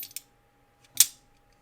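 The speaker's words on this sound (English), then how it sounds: "the little mechanical clicking, tinging noise when it hits back here" A folding knife with a shark lock snapping shut: a faint early tick, then one sharp, bright mechanical click with a short metallic ring, close and alone in near silence.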